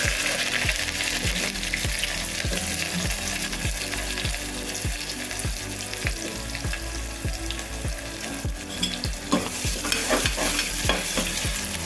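Chopped onions, cumin seeds and curry leaves fry in hot oil for a beans curry. A spoon scrapes the pan in a steady, regular rhythm over a loud, constant sizzle.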